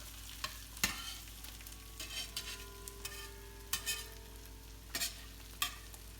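Food frying in a carbon steel pan, with a steady low sizzle under repeated sharp scraping and stirring taps from a utensil, close and fairly quiet, no voices.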